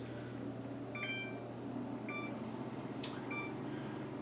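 An oven timer being set for roasted potatoes gives a few short electronic beeps spaced about a second apart, heard clearly over a steady low kitchen hum.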